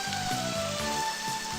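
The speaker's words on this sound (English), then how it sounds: "it'd be kind of nice if it stopped frickin' raining" Steady rain falls throughout in the video game Eternal Eden, a dense even patter with faint game music tones layered over it.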